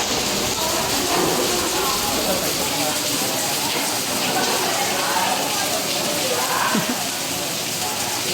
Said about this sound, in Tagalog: Ulan lang yan, trabaho yan.